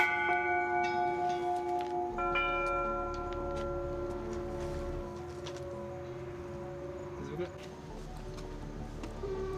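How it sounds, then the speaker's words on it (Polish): Church bells struck in a village belfry in Szulaweri, Georgia, ringing out in overlapping tolls with long sustained tones that hang over faint background voices and ambient noise. "testuje stan dzwonów."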